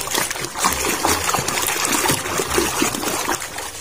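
Water runs steadily over a plastic dinosaur toy as it is washed, a continuous close trickle and splatter with no speech.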